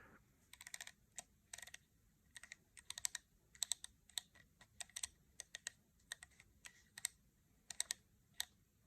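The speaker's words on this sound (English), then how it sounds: "this lens has been serviced, so you can hear the click is a little bit smoother" Aperture ring on a serviced Leica 35mm Summicron version 1 lens, turned through its stops, giving a quick run of small crisp clicks, some in close pairs, spread evenly over several seconds, close and quiet with no talk.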